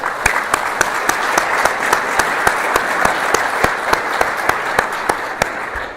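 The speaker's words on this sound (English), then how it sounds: "Please give them a round of applause." Sustained applause from a conference audience for committee chairs and advisory council members standing to be recognized, dense steady clapping with a few sharper individual claps standing out, no talk over it.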